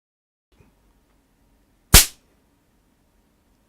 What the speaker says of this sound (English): the idea was to pull the two pieces of cardboard apart like this